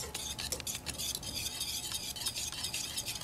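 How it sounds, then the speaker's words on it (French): Whisk working steadily through thick pastry cream for chocolate éclairs, a busy scraping and clinking texture against the pot that carries on without pause, close and fairly loud with no talk. "I'm just whisking it to kind of help it cool down a little bit"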